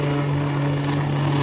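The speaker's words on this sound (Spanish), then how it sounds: "Usamos de esta lijadora" Cordless battery-powered sander used for sanding a stained door before primer, a steady close motor drone with a strong constant hum and no pauses.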